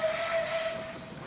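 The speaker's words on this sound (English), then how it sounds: "This is meter gauge YP Class Pacific number 2150, entering Jaipur on the once daily train 253 from Todarai Singh." A metre-gauge YP Class Pacific steam locomotive whistles as it enters Jaipur station: one sustained, fairly faint whistle tone over a soft background hiss.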